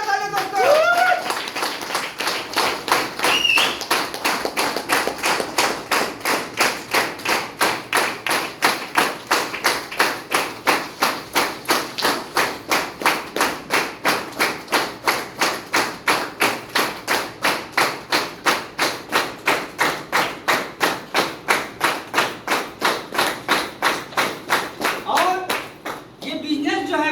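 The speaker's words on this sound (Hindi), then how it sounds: "जोरदार जोरदार ताली दोस्तों।" A crowd claps steadily and loudly for about 25 seconds, welcoming a business team leader onto the stage at a company event in Irba, Ranchi. The dense, even applause fades out near the end.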